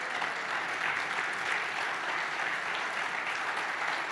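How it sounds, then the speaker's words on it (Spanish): A church congregation gives a sustained round of applause, a dense, even wash of clapping hands that holds steady and fairly loud for a few seconds. "dele un aplauso a Dios."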